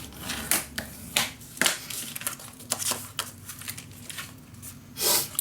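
Paper folded and creased by hand while making a handmade mini album: a string of close, crisp crackles, taps and rustles in irregular bursts, with no talking.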